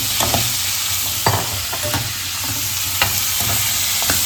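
Onions with a pinch of salt frying in a pan, loud continuous sizzling at close range with occasional stirring scrapes and clinks.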